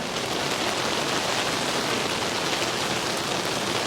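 Rain falls on a street in Strasbourg, France, in the evening, making a steady, even hiss of drops with no breaks and no voices.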